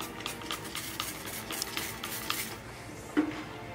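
A clay bar rubbing over contaminated paint on a BMW X5M, making a rough, gritty, sandpaper-like scrubbing in close, repeated strokes that fade out near the end.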